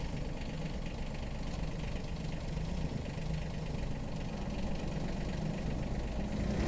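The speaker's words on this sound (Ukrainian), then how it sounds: "відразу вам покажемо, як працює ще фреза" A small Mitsubishi tractor engine runs steadily with a low chugging rumble and rattling rotary tiller blades driven through a PTO shaft, constant and close, no voices.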